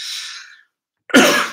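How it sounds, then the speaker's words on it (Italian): A single short cough from an adult indoors, close and fairly loud, preceded by a soft breathy exhale and a brief silence. "do un colpetto di tosse."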